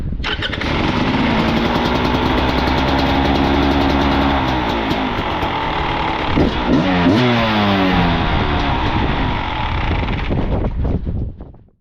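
A Beta motorcycle engine with twin spark ignition, fuel and choke on, cranks and fires, then settles into a loud, steady idle close by with a few brief blips before cutting off at the end; no voices.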